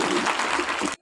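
A short, dense burst of crowd applause for a student speaker at a school Republic Day event, loud and steady for about a second before cutting off abruptly.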